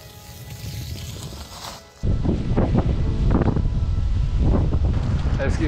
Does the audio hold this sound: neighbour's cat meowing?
no